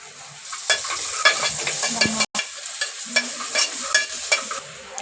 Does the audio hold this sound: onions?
yes